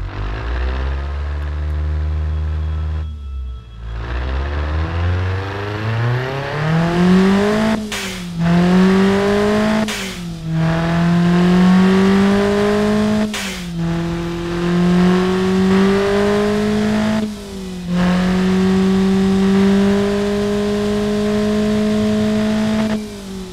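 A modified car engine runs loudly and steadily, its pitch climbing, then rising and falling through several revs with brief sharp breaks between them.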